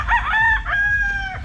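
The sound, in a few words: roosters crowing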